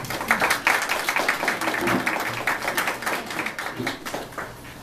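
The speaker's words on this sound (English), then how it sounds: "Round of applause" Audience applause for mentors at a school social action project presentation, a burst of many hands clapping at close range, loud at first and tapering slightly, with faint voices underneath.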